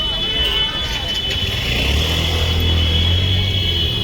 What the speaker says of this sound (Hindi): रोड में काफ़ी बड़ा ट्रैफिक भी लगा हुआ है